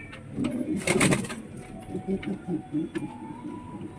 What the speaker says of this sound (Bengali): এটা হলো ধাড়ি জোড়ার মেয়ে পায়রা